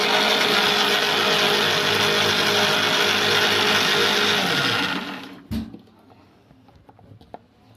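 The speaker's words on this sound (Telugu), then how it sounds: "అదే కొంచెం వాటర్ యాడ్ చేసి మిక్సీ పట్టామనుకో కొంచెం పేస్ట్ లాగా వస్తుంది" A mixer grinder whirs loudly and steadily as it grinds onion chutney to a paste, then spins down and stops abruptly, leaving a brief clunk and near-silence.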